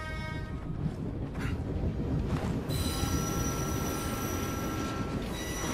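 A train rumbles along the tracks in a Paris-set open-world action game, a dense, steady roar with high wheel squeal rising midway, loud and continuous with no talk.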